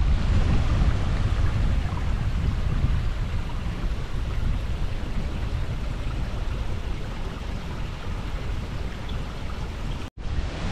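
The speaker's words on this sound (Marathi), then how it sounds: "तो बघा वर गायब झालेला प्रवाह पुन्हा इकडे प्रकट झालाय" Water from the Kakrya waterfall stream flows and rushes with a steady, broad wash of sound, loud and continuous throughout. It cuts off abruptly near the end, with no talking.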